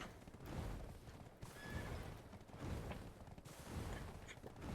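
A horse in a video game neighs over rumbling hoofbeats and battle noise, with several swelling whinnies across a few seconds.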